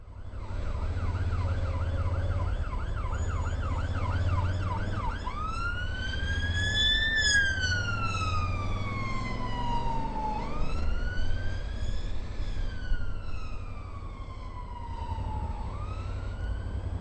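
Ambulance siren passing along a city street, first a rapid warbling yelp, then long rising and falling wails, loud and close over steady traffic rumble, with no talk.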